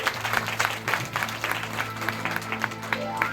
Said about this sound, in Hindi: ताली मार लो अपने लिए